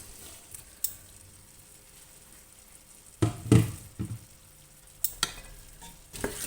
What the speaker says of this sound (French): Je mélange pour bien faire pénétrer tous les arômes sur tous les légumes.